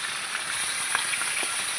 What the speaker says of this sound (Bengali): ভাজা হোক ভালো করে